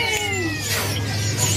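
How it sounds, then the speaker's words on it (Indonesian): A cat at a bird market gives a clear, close, drawn-out meow that slides downward in pitch, over a low background hum. "Ntar ada suara kucingnya."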